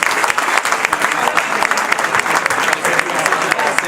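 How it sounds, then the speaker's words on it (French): Loud, dense applause from a crowd after a basketball match, the home audience clapping steadily for the winning Aurore de Vitré team with sharp irregular claps throughout. "applaudir l'équipe de l'Aurore de Vitré pour cette belle victoire face à nous ce soir."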